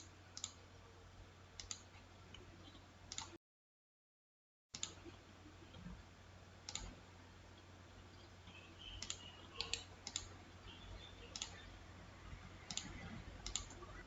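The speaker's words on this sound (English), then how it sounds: "By clicking a left click of mouse button," Mouse button clicks on a computer while wiring a circuit in Proteus design software: sparse, faint, sharp clicks scattered irregularly over a quiet background hum, with a short silent gap early on.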